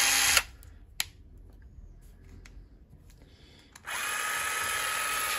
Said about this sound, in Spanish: Esto es una llave de impacto compacta.